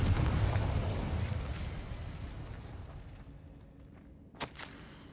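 A Confringo fire spell blasts in the Hogwarts Legacy video game, a rumbling burst that decays over several seconds, followed by a short sharp pop near the end.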